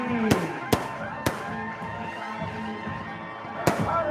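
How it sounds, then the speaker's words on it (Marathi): Firecrackers burst in sharp, loud bangs welcoming Sharad Pawar to a political rally in Kavathe Mahankal, four separate cracks spaced irregularly over a murmuring crowd and background commotion. "जोरदार स्वागत फटाक्यांची"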